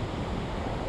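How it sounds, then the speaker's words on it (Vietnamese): Big waves roll in continuously at Nha Trang beach under strong wind, a steady, broad roar of surf and wind noise filling the whole moment with no voices. "Sóng thì mùa này nó hơi lớn quý vị, sóng vô cuồn cuộn liên tục và gió nó cũng mạnh nữa"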